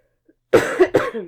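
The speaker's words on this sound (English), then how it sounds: "excuse me, I have to cough 1 second" A woman still getting over the flu lets out one brief cough in two close bursts, near and clear against silence.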